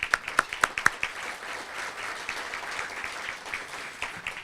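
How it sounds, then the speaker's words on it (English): Chamber of commerce audience applauding a congressman at a local meeting, opening with a few sharp individual claps that quickly merge into a steady, moderate round of applause. "Let's give him a round of applause."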